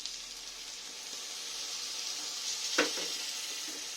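A prawn poppy-seed curry sizzles in a pan with a steady close hiss, then a sharp surge of spitting as a splash of water hits the hot pan.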